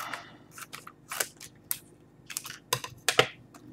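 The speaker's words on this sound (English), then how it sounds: "I brought scissors just in case." Several sharp snipping and crinkling bursts, like scissors cutting through packaging plastic, come in irregular clusters close to the mic with no talking.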